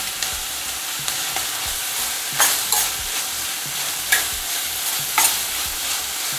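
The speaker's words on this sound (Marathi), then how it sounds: "आता याच्यामध्ये मी ही आलं आणि लसणीची पेस्ट घालते" Chopped onion with ginger-garlic paste and green chili fries in a pan for lasooni methi, a continuous hiss under frequent stirring scrapes, with a few louder clatters of the spoon against the metal.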